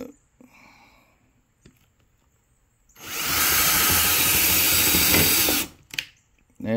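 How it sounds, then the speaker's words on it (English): A Hart power drill bores steadily for about three seconds, a loud, close, broadband whir, with quieter handling clicks and knocks before and after. "as you see, it drills in very well"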